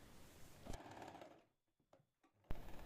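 Elastic is being stitched into palazzo trousers on a sewing machine, which whirs steadily, falls quiet for about a second with a few faint clicks, and then starts running again.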